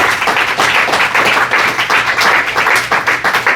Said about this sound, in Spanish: Vamos a darle un aplauso al Señor Jesucristo.